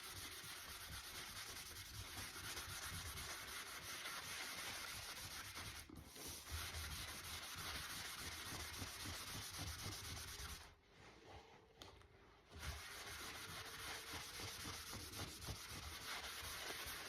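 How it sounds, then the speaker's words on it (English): Paste wax rubbed by hand onto a wooden sign board, a soft continuous scrubbing swish with rhythmic strokes and a couple of short pauses, quiet and close with no speech. "I'm going to take a little bit of paste wax and put on my board"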